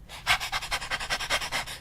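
A person imitates a dog's panting as a diaphragmatic breathing exercise during a voice lesson: quick, even, breathy huffs, about a dozen in under two seconds, close and clear with no talking.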